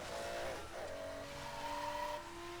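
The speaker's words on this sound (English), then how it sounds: "To start the race, pull up to the checkpoint and spin your wheels" Car wheelspin at the start of a race in Need for Speed: Most Wanted on PS Vita, with a revving engine whose pitch climbs and shifts over close, continuous tire noise.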